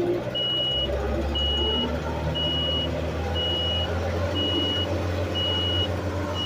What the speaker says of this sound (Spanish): Voy a subir revoluciones.